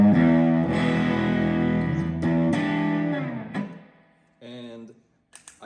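A Fender Twin Reverb guitar amp rings out sustained guitar chords wrapped in a splashy spring-reverb wash that fades away, followed by a brief quieter phrase and small clicks at the end.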